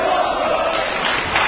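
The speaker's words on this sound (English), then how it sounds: "And this crowd in Coventry lapping it up." Wrestling crowd in Coventry, England roaring steadily through a tag-team match, a dense, continuous wash of cheering voices with no pauses.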